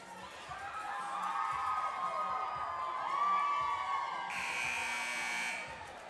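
A sustained buzzer tone rings in the Domingo Sepulveda gym at a high school volleyball match, heard over a cheering crowd, then a brighter burst near the end.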